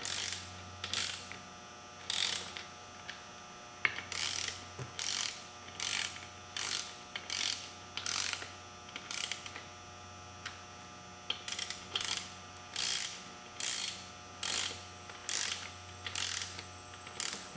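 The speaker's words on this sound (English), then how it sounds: "this is an inch-pound torque wrench" An inch-pound torque wrench clicks steadily while tightening the bolts on beadlock rims for a 2003 Polaris Ranger 6x6, its ratchet ticking in short repeated bursts close up over a low mains hum.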